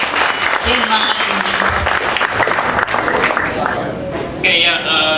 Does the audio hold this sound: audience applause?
yes